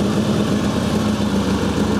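A new 2014 Harley-Davidson Ultra Limited V-twin idles with a steady, loud, low throbbing rumble, close and continuous with no voices.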